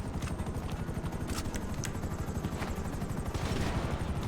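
A helicopter circling in GTA 5 survival mode, a steady rapid rotor thump filling the scene at constant loudness with a few sharp transient cracks over it.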